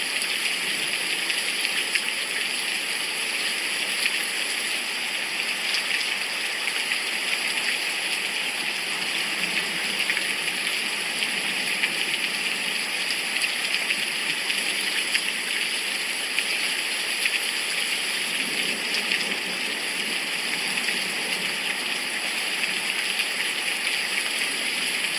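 Steady rain on a very wet day, a continuous even hiss of falling water and dripping that holds at a constant level throughout, with no voices.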